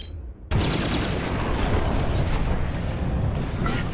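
Enemy starfighter gunfire in Star Wars: Squadrons bursts in suddenly after a brief quiet and keeps up as a dense, loud rattle of blaster shots and cockpit rumble.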